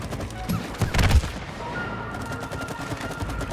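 Rapid bursts of gunfire from weapons in the video game It Takes Two crackle in quick volleys, loudest early on, then thin out into scattered shots over a steady game backdrop.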